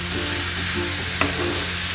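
Beetroot for halwa roasts in ghee with a continuous bright sizzle and a light stirring scrape, plus one brief metallic tap partway through.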